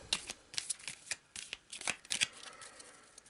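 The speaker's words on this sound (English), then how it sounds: "here we are with the manor deck. And we'll give it another shuffle and another cut." Cards from a board-game deck are shuffled and cut, giving a run of quick riffling rustles and soft slaps with repeated bursts, fairly close and alone.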